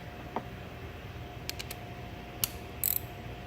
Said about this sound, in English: take my 10mm, loosen up the positive terminal